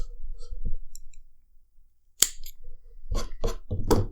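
Scissors snipping cotton wick while building a dripper vape atomizer: a few sharp close clicks and snips, one isolated cut then a cluster of quick cuts near the end, with quiet pauses between.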